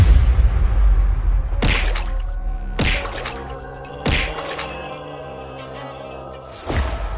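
Cartoon effect of stones hurled at a crocodile floating near a boat: four sharp whacking thuds with swishes, spaced a second or two apart, each ringing out briefly over a steady music bed.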